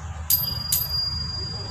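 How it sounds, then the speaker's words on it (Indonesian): A handlebar bell on a black Brompton S6L folding bicycle rings twice in quick, bright dings about half a second apart, close by over a low background murmur. "Terus di sini ada bel,"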